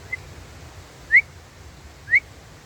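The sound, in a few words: person whistling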